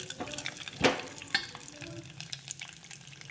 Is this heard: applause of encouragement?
no